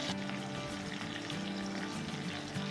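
Curry leaves fry in a little oil in a kadai, giving a steady, fairly quiet crackling sizzle throughout.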